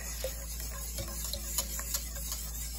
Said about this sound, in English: And you add it slowly and you whisk